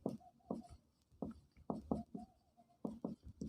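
A teacher writes on a classroom board, producing short scratchy strokes in quick clusters, close and quiet, with soft speech-like sounds woven between the strokes.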